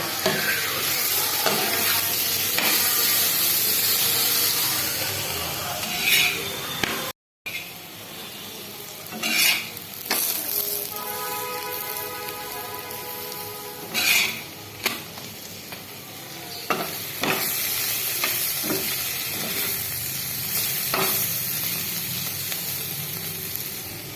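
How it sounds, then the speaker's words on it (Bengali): Fenugreek paratha frying in a pan, a steady close sizzle throughout with occasional scrapes and clinks of a spatula against the pan, and a brief gap partway through. "মেথির পরোটা বানাচ্ছি, ভেজে নিচ্ছি।"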